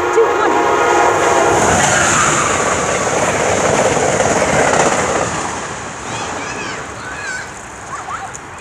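A loud Amtrak construction train rumbles past close by, its horn blaring through the first seconds before the roar fades into a fainter rolling clatter, with a few excited voices near the end.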